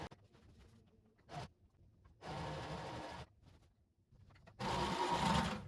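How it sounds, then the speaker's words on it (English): Sewing machine stitching a sound-absorbing curtain fabric, three separate runs of whirring motor buzz, each about a second long and growing longer, with quiet handling noise in between, close by. "now back to sewing."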